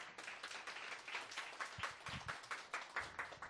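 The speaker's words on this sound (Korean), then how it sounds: "교수님을 큰 박수로 모시겠습니다." Faint applause from a seated audience at a corporate book concert as a professor is welcomed, a steady patter of many hands lasting several seconds, distant and quiet.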